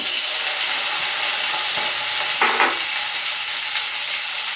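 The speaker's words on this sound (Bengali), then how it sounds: "টমেটোগুলো দিয়ে দেবো এর মধ্যে।" Tomatoes go into a hot frying pan and a steady, loud sizzle hisses throughout, with a brief stirring scrape partway through.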